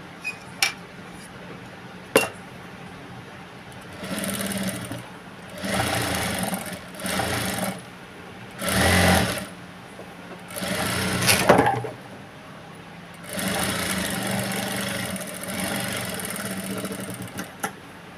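A sewing machine stitches a blouse in several separate bursts of a few seconds each, with clicks and quiet handling of the fabric in the gaps between runs.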